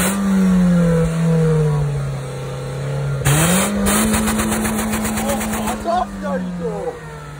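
A stock car engine hums at idle on the streets of Tehran, then revs up sharply with a rising roar and rattly exhaust before easing back down, with voices talking over it.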